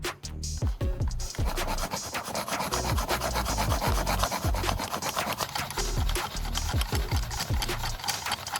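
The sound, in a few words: sifting sand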